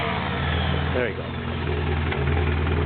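A Willys L134 engine, built on an Allied reproduction block, runs at a steady, loud, close idle with a brief change in tone partway through, while someone speaks briefly over it.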